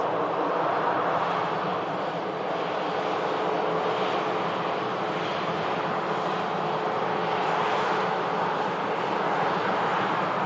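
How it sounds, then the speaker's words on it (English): KLM airliner arriving from Amsterdam at Manchester Airport, a continuous broad engine rumble and rush staying fairly steady throughout, with no voices. "KLM just arriving in from Amsterdam"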